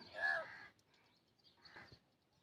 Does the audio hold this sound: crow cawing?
yes